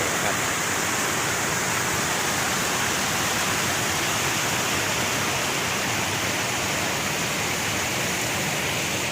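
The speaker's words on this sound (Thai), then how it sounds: "นี่คือน้ำตกกวางสีที่เป็นชั้นเล็กๆ" Water tumbling over the small low tiers of Kuang Si waterfall near Luang Prabang, Laos, a loud, constant hiss and roar with no pauses.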